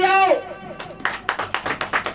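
Members of a church congregation clap together during a Hindi sermon, about seven quick, evenly spaced claps ringing out just after the preacher's voice trails off.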